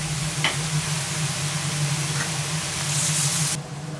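Salmon and pasta sizzling together in a pan as a creamy salmon pasta cooks, a steady low frying hiss with faint ticks and a brief stirring scrape near the end.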